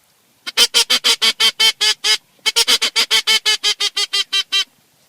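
Wood duck calls, a fast run of sharp, rising squeals in two bursts with a short pause between, loud and close with no talk over them.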